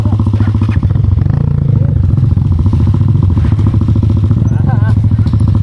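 A motorcycle engine chugs steadily up close on a trail, a loud continuous rumble with rattling, and a voice talking briefly over it.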